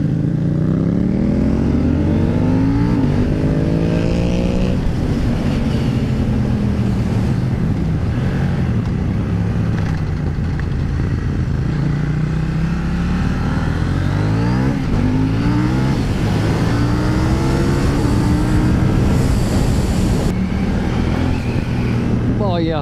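KTM 790 Duke motorcycle ridden in supermoto style on a mountain pass, its engine revving and rising and falling in pitch steadily throughout, loud and close, with people talking over it.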